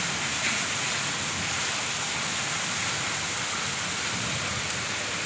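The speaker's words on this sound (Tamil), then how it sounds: "செம்ம மழை பெய்யுது பாருங்கள்." Heavy rain pours down in a steady, dense roar that fills every moment, close and unbroken, with no voices over it.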